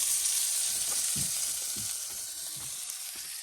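Pork chops sizzle on a camping stove at a Vermont campsite, a steady close frying hiss running throughout with soft low clinks and stirring bumps scattered through it.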